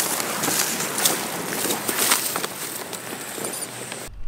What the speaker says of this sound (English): so we were paddling over